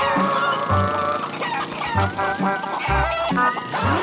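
Cartoon chickens clucking in a busy, rhythmic chorus, with repeated short calls overlapping against a steady low thumping beat.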